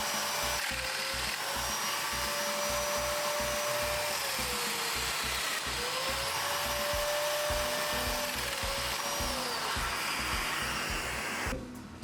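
A domino joiner machine cuts mortises in marri wood for a herringbone table, giving a loud, continuous motor whine with a grinding, buzzing cut that holds steady for several seconds before stopping abruptly.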